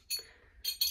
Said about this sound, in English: clinking there.